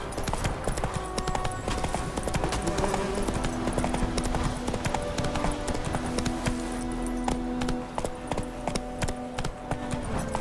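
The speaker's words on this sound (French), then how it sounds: "Au galop, Ablette" A horse gallops in The Witcher 3: Wild Hunt, a fast, steady clip-clop of hooves close up, continuous and loud over game ambience.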